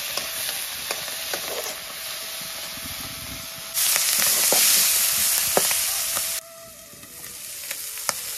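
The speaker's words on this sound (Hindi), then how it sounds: "अभी आप लोगों को पटपुट पटपुट की आवाज सुनाई दे रही होगी, तो ये जो छोटे छोटे अंडे हैं ये फट" Red ant eggs fry in turmeric in a pan, giving a loud, continuous sizzle and hiss dotted with sharp little pops, swelling louder midway, then dropping to a quieter crackle.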